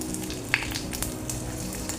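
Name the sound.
panch phoron and bay leaf sizzling in hot oil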